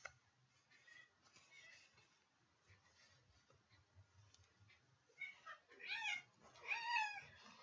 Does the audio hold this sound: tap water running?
no